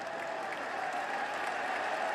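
Warm applause ripples from the crowd at an England v West Indies cricket Test match, a steady, fairly distant wash of clapping sustained throughout with no clear voices.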